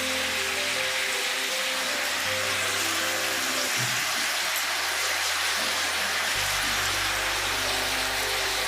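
Chicken leg pieces lightly frying in a pan with onions for chicken stew give a constant dense hiss of sizzling oil, steady and fairly loud throughout, with a low hum underneath.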